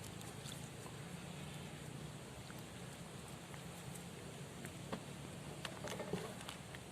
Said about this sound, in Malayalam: കുറച്ച് വെള്ളം ഒഴിച്ച്